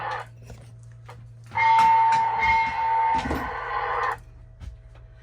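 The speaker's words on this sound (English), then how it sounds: "I'm not familiar with these big fancy sound locomotives." An MTH RailKing model locomotive's sound system plays loud electronic train noises with a sustained whistle-like tone and rumbling, starting abruptly and stopping after about two and a half seconds.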